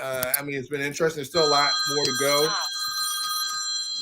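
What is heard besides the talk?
rotary telephone bell ringing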